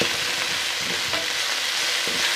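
Tomato and coriander leaves frying in a pan give a steady, close, full hiss with faint stirring scrapes underneath, running continuously without pause.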